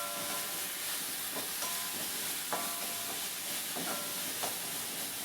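Coconut, cumin and onion paste sautéing in oil, a steady broadband sizzle and hiss with occasional clinks of a spoon stirring the pan, moderately loud throughout with no talking.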